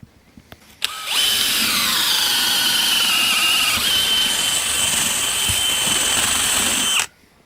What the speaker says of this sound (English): that's right where I want to drill my hole for the wire